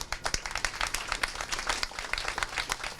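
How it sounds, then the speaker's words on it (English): Lively clapping from a crowd at an outdoor ribbon-cutting ceremony on a waterfront, crisp individual hand claps overlapping into continuous moderate applause. "I want you all to give yourselves a round of applause for a job well"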